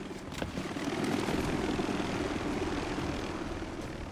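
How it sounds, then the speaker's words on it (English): Steady whirring rotor and engine drone of a video game helicopter, fairly loud and continuous, with a faint rhythmic chop throughout and no talking. "So helicopter still trying to shoot me"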